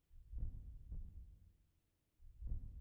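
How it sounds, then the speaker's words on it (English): A slow heartbeat thumps as a stream outro, deep muffled double beats at a steady unhurried pace, soft and alone with no voices. "You guys can listen to the heartbeat for the outro."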